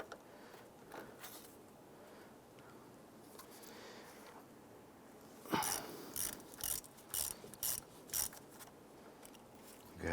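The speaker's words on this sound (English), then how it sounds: "We're going to start by disconnecting the negative side here using an 8mm socket." Ratchet with an 8mm socket loosening the negative battery terminal on a 1995-2001 Ford Explorer, a run of six or seven quick, close clicking bursts after a few seconds of quiet workshop ambience.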